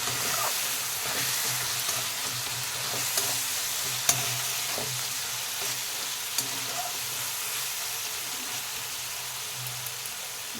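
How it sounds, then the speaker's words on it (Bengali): Turmeric, chilli, coriander and cumin powders stirred and fried in oil in a pan, a steady close sizzle with occasional scraping clicks of the spoon, no talking. "মশলাটা একটু ভালো করে ভেজে নেব।"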